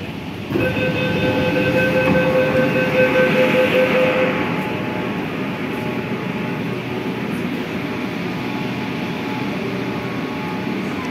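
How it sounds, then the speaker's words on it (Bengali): A metro train entering the new underground Mahakaran station, a loud continuous rumble of wheels and motors with a rising whine that eases as the train slows along the platform. "মহাকরণ স্টেশনে ট্রেন ঢুকছে।"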